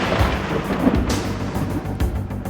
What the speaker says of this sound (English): You may hear the roll of thunder and see the flash of lightning.